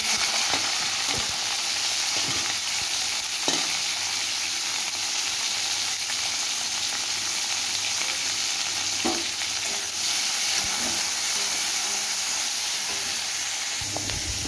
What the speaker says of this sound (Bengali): ক্যাপসিকাম ভাজা নামিয়ে নেব।